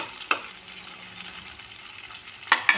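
Tomato slices fry in oil for a tadka, a soft steady sizzle with two sharp clinks of a utensil stirring the pan, close and without talking.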